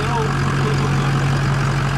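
A truck fitted with a train horn kit idles close by, a steady low engine rumble with a constant hum that holds even and loud from start to finish.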